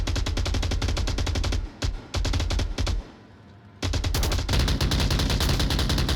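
Rapid bursts of automatic gunfire as players pre-fire corners in the VR shooter Onward, loud and close, with sustained volleys broken by two brief pauses.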